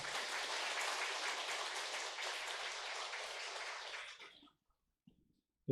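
A church congregation gives a round of welcoming applause, many hands clapping in a dense, even wash for about four seconds before it stops abruptly, leaving near silence with a couple of faint knocks.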